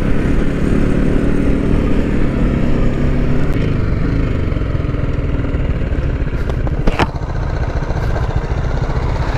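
A 300cc motorcycle engine revs hard at high speed, a loud, close, sustained roar with slight wavering and a brief shift in pitch near the end.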